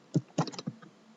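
A few quick keystrokes clatter on a computer keyboard, three distinct close taps followed by lighter clicks, with no one talking.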